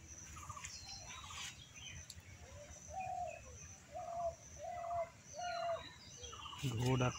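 A dove coos softly in a quiet village temple garden, a series of five or six evenly spaced hooting calls at moderate distance, with faint background bird chirps.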